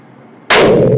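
A single loud, booming gunshot from a Boito A680 12-gauge double-barrel shotgun fired at close range cuts through quiet, its blast lingering to the end; both barrels fire at once, fusing into one report.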